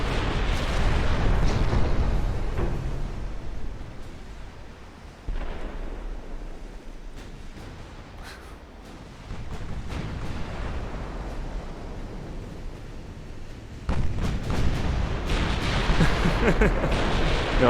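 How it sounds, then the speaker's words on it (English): Non-stop naval gunfire in Ultimate Admirals: Dreadnoughts rolls on as a sustained, loud rumble of overlapping cannon blasts, easing and swelling in waves with sudden louder bursts near the end. "45 hours of non-stop firing."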